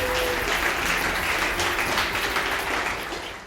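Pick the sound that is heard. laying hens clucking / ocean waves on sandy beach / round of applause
round of applause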